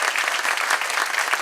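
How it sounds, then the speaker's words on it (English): An audience at a church's 85th anniversary history play gives the musicians a round of applause, dense steady clapping throughout. "Let's have rounds of applause."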